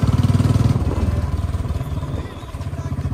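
Motorcycle engine while riding on a mountain road trip, a pulsing, chugging mid-pitched drone with a steady beat that dips slightly midway, close and loud, with wind buffeting over it.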